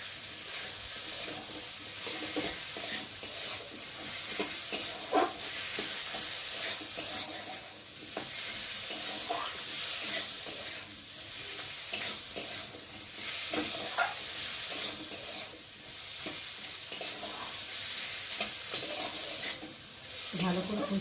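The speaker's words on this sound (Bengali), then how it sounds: "চিংড়ি মাছটাও মশলার সাথে ভালো করে কষিয়ে নেব, সবগুলো একসাথে" Prawns are stirred and sautéed with spices in a pan for a Bengali mocha (banana flower) curry, giving a steady close sizzle with frequent spatula scrapes and clinks throughout and no voices.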